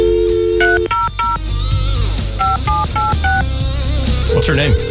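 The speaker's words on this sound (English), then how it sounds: "I'm going to dial it up, okay?" Touch-tone beeps as a telephone number is dialed. A series of short, evenly spaced DTMF tones sounds in two bursts, mixed with background sounds and voices.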